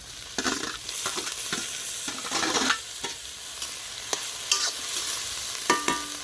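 Tomatoes frying in a pan for village-style paneer butter masala, a continuous sizzle broken by repeated stirring scrapes and clinks of a spoon against the pan, with no talking.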